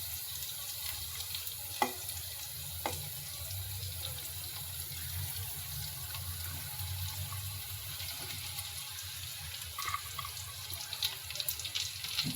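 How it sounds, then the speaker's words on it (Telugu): Cut okra pieces frying and being tossed in a pan for a tomato-okra curry, giving a steady, fairly soft hiss with occasional light clinks of stirring. "ఈ బెండకాయ ముక్కలు కూడా మొత్తం కలిసే విధంగా కలుపుకొని ఫ్రై చేయాలండి."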